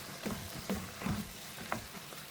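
Pepper mushroom fry with capsicum and onions being stirred in a pan: a soft sizzling bed with a few quick scraping strokes of the spoon, fairly close and moderately loud.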